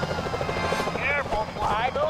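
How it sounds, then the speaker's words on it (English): Security helicopters in the video game Sly Cooper: Thieves in Time, a steady rotor chop pulsing under a character's spoken warning and other voices. "Careful, Sly, those security choppers are bad news."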